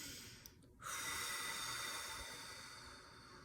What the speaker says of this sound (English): You'll notice my exhale was longer than my inhale.